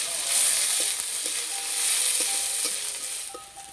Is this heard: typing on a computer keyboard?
no